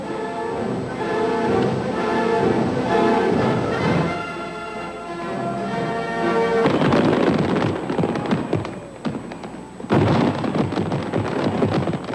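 Fireworks at a downtown Detroit celebration on the night of July 2, 1990: music plays first, then loud booms and crackling bursts follow in dense clusters, separated by a brief lull.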